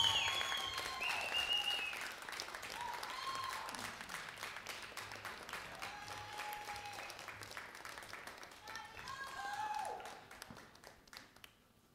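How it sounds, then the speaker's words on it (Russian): A concert crowd applauds continuously, fairly distant and soft, with a few whistles rising over the clapping before it tapers off, as a band is introduced. "Ваши аплодисменты."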